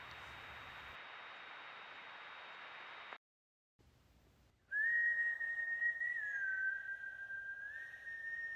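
A person whistles a single sustained, slightly wavering tone for several seconds, loud and close over a steady background hiss, in a scene from a film trailer.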